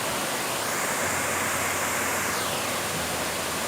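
Waterfall at Khlong Yot Nam in Nakhon Si Thammarat, water pouring over large boulders: a constant, loud, broadband roar of falling water with no voices.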